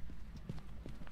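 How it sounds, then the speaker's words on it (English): Horse hooves clip-clop in a quick, faint sequence of soft thuds in the Phasmophobia game, low and muffled against a dull background hum, lasting about a second. "There's a horse here."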